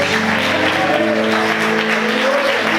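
Continuous clapping from a church congregation during a worship service fills the space, steady and fairly loud, with a sustained tonal music-like drone underneath.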